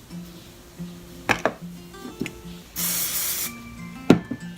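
Hairspray is sprayed onto hair in one sustained hissing burst lasting about half a second, surrounded by soft clicks and handling taps from styling tools close by.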